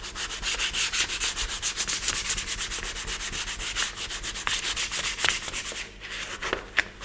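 Primer is hand-sanded smooth to remove scratches, a close, rapid back-and-forth rasping with regular strokes that slows and becomes uneven toward the end.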